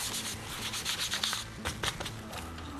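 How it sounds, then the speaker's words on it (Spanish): Surface hand-sanded with 150 grit sandpaper to feather it out, a close, continuous rough rubbing and scratching in quick strokes with no voices. "Acá vamos a irlo desvaneciendo con una lija 150."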